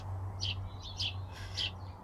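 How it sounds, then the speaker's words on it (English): Small birds sing in a Welsh garden, a few bright, high chirping phrases spaced about half a second apart, fairly distant over a low steady hum. "I do have an app on my phone called Merlin that identifies the birdsong, and I can hear them both from my garden."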